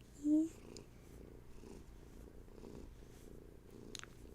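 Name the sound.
cat purring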